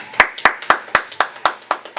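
Hands clap in a steady, even rhythm, about four claps per second, sharp and close in a basement.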